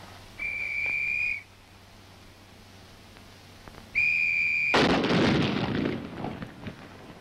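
Two steady whistle blasts precede a rifle test firing at the Aberdeen ordnance proving ground: a single loud, sharp report that rolls off into a fading rumble.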